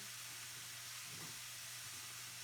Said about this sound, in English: so that's starting to sizzle